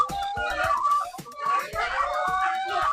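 Egg-laying hens clucking in a coop during a children's school project, the calls repeating in a busy, close chorus while young voices are heard among them.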